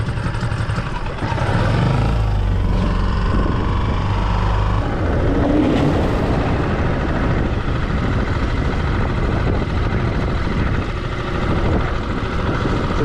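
A small Tohatsu outboard motor runs after a pull start, giving a loud, steady buzzing drone that holds without a break and sits close to the listener.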